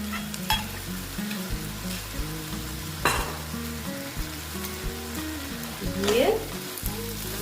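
Taro stolons (kochur loti) sautéed in a pan with green chillies and sugar, cooked without onion or garlic: a steady loud sizzle with scraping stirs of a spatula, a few louder stirring bursts, and no talking.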